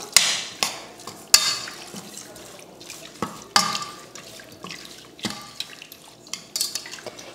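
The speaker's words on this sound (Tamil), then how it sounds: "இப்போ தண்ணி ஊற்றி இதை கலந்துடலாம்." Water splashes and pours into a metal pot of goat intestines for curry in repeated bursts, with clinks and stirring sounds close by.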